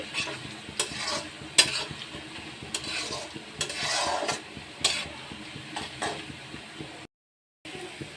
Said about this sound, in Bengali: পেঁয়াজ কুচি আর একটা কাঁচা লঙ্কা দিয়েছি আর একটু ভেজে নেব